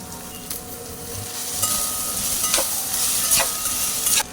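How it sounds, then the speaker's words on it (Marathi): Okra frying with onion in a pan, a continuous close sizzle with a few sharp spatula scrapes and clinks, fairly loud, with no talking. "कांदा भाजलाय भेंडी घालूया भेंडी भाजून घेऊया चांगली"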